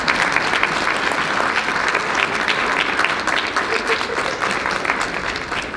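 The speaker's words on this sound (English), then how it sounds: "you deserve such a huge round of applause" An audience at a mental health suicide prevention symposium gives a loud, continuous round of applause that holds steady and fades slightly toward the end.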